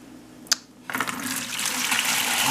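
Liquid pours steadily into a plastic pail used as a fermenter for stinging nettle mead, a continuous splashing gush that starts after a brief click and grows slightly louder.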